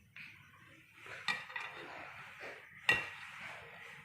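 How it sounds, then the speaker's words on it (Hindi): Spoon mixing amla murabba with black pepper and cardamom powder in a pot, quiet stirring with a couple of sharp metallic clinks against the vessel, close and without talk. "अब इसको मिक्स करेंगे"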